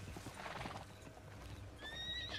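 A horse in a video game clip-clops steadily and then gives a high, rising whinny near the end, over a low background rumble.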